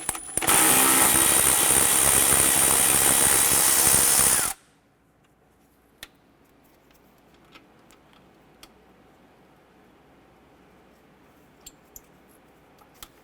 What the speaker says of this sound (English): On the top of the throttle body, I'm going to remove the bolt for this bracket here.